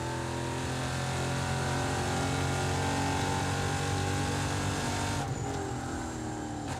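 A EuroNASCAR race car's 5.7 litre engine works hard at Circuit de Barcelona during the NASCAR GP Spain round, a loud sustained roar holding steady throughout with no talking.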